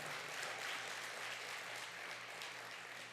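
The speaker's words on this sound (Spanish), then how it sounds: "Dele fuerte el aplauso al Señor." A church congregation claps hard for the Lord during a sermon, a continuous wash of applause with a low steady hum beneath it, fairly distant and even throughout.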